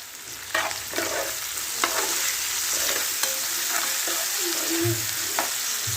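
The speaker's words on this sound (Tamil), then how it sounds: "வெங்காயமும் நல்லா வதங்கி வந்திருக்கு." Onions sauté in a pan with a little salt, a steady sizzle broken by several scraping stirs of a spoon against the pan, close and moderately quiet, without speech.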